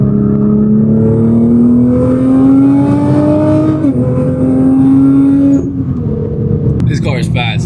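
A newly delivered car of roughly 600 horsepower accelerates at about 40-50% throttle, its engine note rising steadily and loud from inside the cabin, dropping briefly at a gear change around four seconds, with a voice and cabin noise near the end.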